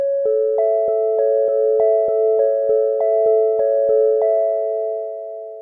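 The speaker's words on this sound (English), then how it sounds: "So first oscillator is just going to be a sine wave." A smooth, pure sine-wave synthesizer tone plays a repeating pattern of evenly spaced notes, loud and steady, fading slightly at the end.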